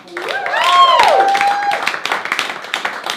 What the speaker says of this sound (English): So one more round of applause for Omar, everyone.